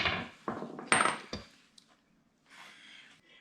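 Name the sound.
whacking a small Corvair part into place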